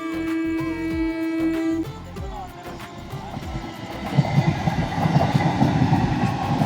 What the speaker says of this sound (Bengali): আর এই টাইমে ট্রেন আসছে। চলো ট্রেনটা দেখে নাও।